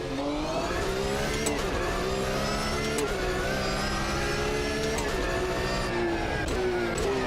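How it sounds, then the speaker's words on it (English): A GT3 racing car engine in the video game Automobilista 2 revs steadily and shifts pitch up and down as it accelerates, loud and continuous, with no voices. "I like the samples for the sound of this car a little better."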